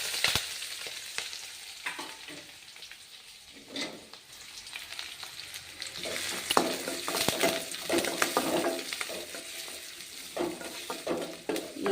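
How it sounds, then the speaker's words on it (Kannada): Urad dal, chana dal, onion and green chillies frying in hot oil in a home kitchen, a steady close sizzle with stirring scrapes and occasional pan clinks, no talking. "ಇವಾಗ ಏನು ಮಾಡ್ತೀನಿ ಅಂದ್ರೆ ಉದ್ದಿನಬೇಳೆ, ಕಡಲೆಬೇಳೆ, ಆಮೇಲೆ ಈರುಳ್ಳಿ, ಮೆಣಸಿನ್ಕಾಯಿ ತೊಗೊಂಡಿನೆಲ್ಲ ಇವನು ಹಾಕೊಂಡ್ಬಿಡ್ತೀನಿ"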